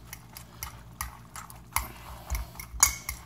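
A fork clinks and scrapes against a bowl while stirring a cauliflower patty mixture, with a quick series of irregular taps and scrapes, close and fairly loud, and no talking.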